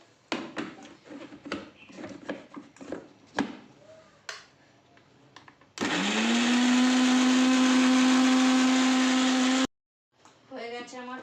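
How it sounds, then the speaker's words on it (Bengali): Electric mixer grinder blending a chili and whole cumin paste in a home kitchen: a sharp motor whine spins up and holds loud and steady for about four seconds, then cuts off, with talk before and after. "এই যে এবারে আমি মিক্সারে ঘুরিয়ে নেবো এটা।"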